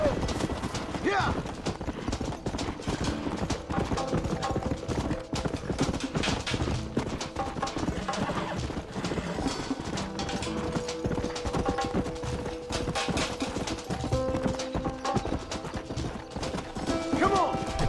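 Horses in the Red Dead Redemption video game trot with steady clip-clop hoofbeats and occasional whinnies, heard under game dialogue and music for much of the stretch.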